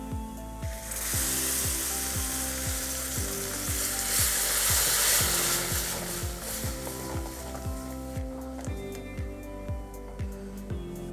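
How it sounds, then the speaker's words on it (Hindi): Ground tomatoes hit a pan of fried onions cooking for a spiced onion curry, setting off a loud hiss that settles into steady sizzling with a regular scraping rhythm of stirring, close up and with no voices. "और अब मैं डाल दूंगी इसके अंदर 2 पिसे हुए टमाटर"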